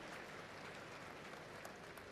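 An audience applauds at the ceremony of the tenth World Hindi Conference as a chief minister is welcomed on stage: a steady, even patter of many hands clapping, heard faintly as if from a distance.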